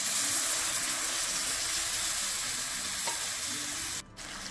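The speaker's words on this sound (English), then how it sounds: "Now we can add the white vinegar." White vinegar being stirred into a pot of fish pickle on the stove gives a steady soft sizzle and scraping stir throughout, with a brief sharp clatter near the end and no talking.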